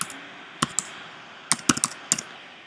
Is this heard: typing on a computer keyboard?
yes